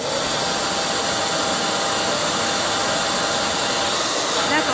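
A dryer blowing a steady, loud whooshing stream of air at close range while a pigment spot is dried on a silica plate in a student lab, unbroken for the whole stretch.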